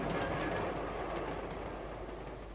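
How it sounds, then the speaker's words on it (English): A train arrives as a radio drama sound effect, with a steady rumbling roar of railway cars and faint clickety-clack under a dense wash of noise. "Here's my train."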